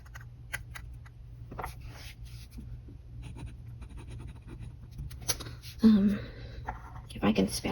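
A fountain pen inked with Pilot Iroshizuku Murasaki writes swatches on paper, giving soft intermittent scratching strokes with a few louder scrapes near the end, close up under quiet talk.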